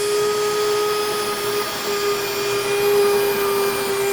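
A grain mill motor running at speed grinds whole wheat into flour for bread, a loud steady whine with a constant hum, close and uninterrupted with no talking.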